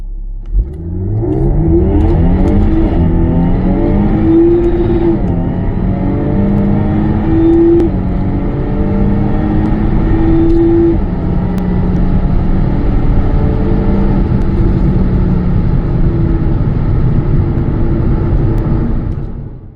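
A Jaguar F-Type V6 with a Stage 4 tune and over 550 horsepower accelerates hard from a standstill, its engine climbing through several gears in rising, loud surges with quick drops at each shift, sustained throughout.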